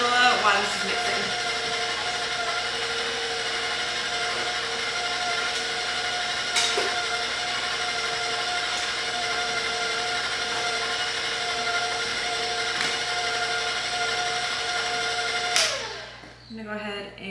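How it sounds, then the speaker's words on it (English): A KitchenAid stand mixer beats brownie batter with a steady, loud motor whine that holds evenly for about fifteen seconds before it winds down and stops near the end. "We're just gonna mix this until it's all incorporated."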